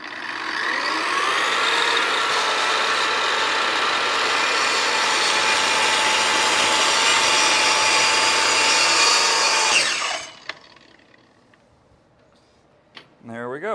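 A Kreg track saw slices through a 3/4 inch plywood sheet in one loud, steady whine lasting about ten seconds, then winds down into quiet handling noises and a few soft knocks.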